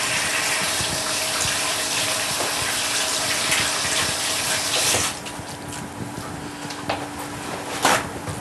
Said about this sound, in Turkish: Önce ellerimi yıkamam gerekiyor.